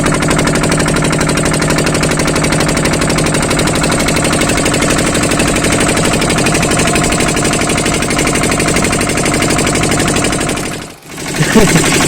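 A boat engine running steadily at close range on the Nagarjuna Sagar dam backwater, a loud continuous droning rattle that cuts out briefly near the end.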